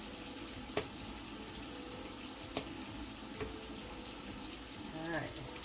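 Tap water runs steadily from a faucet into a sink while the end of a comb is rinsed clean of hair bleach, with a few faint clicks and a brief splash near the end, no talking.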